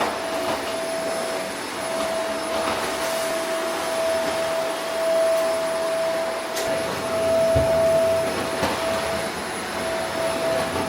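A vacuum cleaner runs steadily in a garage, a continuous close whine with a sustained tonal hum, loud and unbroken for the whole stretch with no talking.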